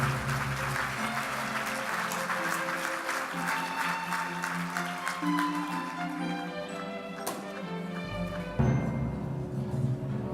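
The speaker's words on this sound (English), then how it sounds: "Please give them a round of applause." Audience applause at a cystic fibrosis charity gala, many hands clapping steadily across a large room, with a few louder nearby claps and some background music underneath.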